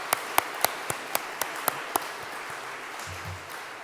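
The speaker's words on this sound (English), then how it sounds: "So thank a big round of applause for them as well." At a celebration event, a handful of distinct, evenly spaced claps ring out for about two seconds over a low room hum, then fade into quiet room noise.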